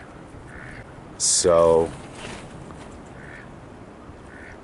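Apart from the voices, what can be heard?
wild mallard ducks quacking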